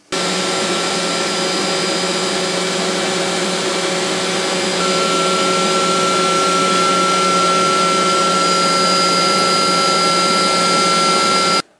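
An X-Carve 750 mm CNC router fitted with a new cutter runs continuously, a loud, steady high-pitched spindle whine with a tone that shifts slightly partway through.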